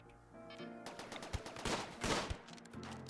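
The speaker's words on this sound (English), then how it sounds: "Okay, so they're shooting at the turrets now." Video game gunfire aimed at turrets, a rapid burst of sharp shots over a steady musical drone, with a few heavier thumps standing out near the middle.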